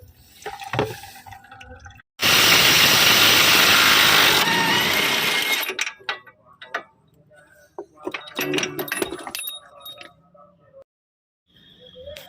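An impact wrench removing cross member bolts on a Chevrolet Spin, with a loud sustained burst of whirring and rattling, then scattered clanks and metallic clicks between quieter pauses.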